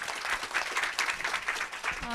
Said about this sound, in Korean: 큰 박수로 함께 해주시고